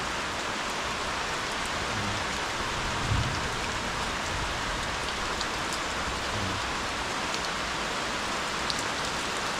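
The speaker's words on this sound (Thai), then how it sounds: "นี่ครับฝนตกแรงขนาดนี้นะครับ" Heavy rain falls steadily under a darkened sky, a dense, unbroken hiss and patter of drops on surfaces that stays loud and constant throughout, with no voices.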